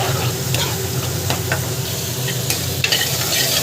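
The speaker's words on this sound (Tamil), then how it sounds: "நல்லா வதக்கணும்." Onions and dal sauté in a hot pan for a pulicha keerai chutney, giving a steady, close sizzle and crackle throughout, with light scraping and knocking as the mixture is stirred.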